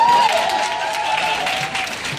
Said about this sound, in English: Y'all supposed to clap.